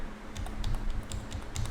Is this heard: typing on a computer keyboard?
yes